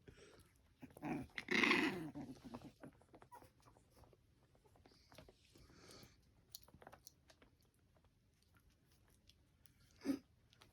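A dog growls and bites in close, rough play, with snarls and chewing noises, a loud flurry early on and a sharp yelp near the end, under quiet household voices.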